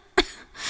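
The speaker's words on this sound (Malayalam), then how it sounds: "എന്താടാ പെണ്ണിന്റെ ശബ്ദത്തിൽ ചുമക്കുന്നത്?" One short, sharp cough sounds close by, followed by quiet background noise.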